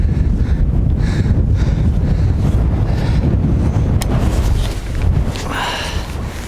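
Strong wind gusting across the open Hardangervidda mountain plateau near Hansbu, a steady loud buffeting roar that batters the microphone throughout and eases slightly toward the end.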